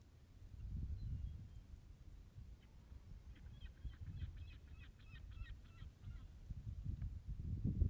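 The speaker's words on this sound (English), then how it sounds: "The sounds of my morning. The shorebirds, the gulls," Faint shorebirds and gulls call in the distance at a seaside cottage, with a short run of rapid, repeated honking notes, over low outdoor rumble and rustling.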